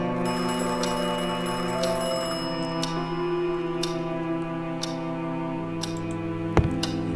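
A telephone rings somewhere in a house in the game Scratches, with sustained bell-like tones and a few sharp ticking clicks spread across the stretch, and no speech.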